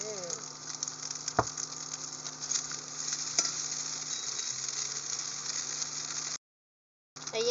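Rice goes into hot oil for spicy shrimp fried rice, giving a steady close sizzle with a few sharp utensil knocks and a low hum, then a short break of silence before the frying returns.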